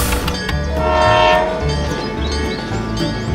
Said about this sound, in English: The train continues its journey.